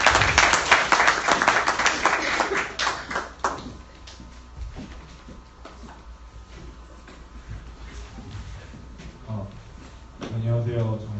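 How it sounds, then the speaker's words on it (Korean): A school audience applauds before a song performance. Loud clapping comes at the start and dies away within about four seconds, leaving room noise and shuffling, and a voice begins speaking near the end. "많은 박수 부탁드립니다"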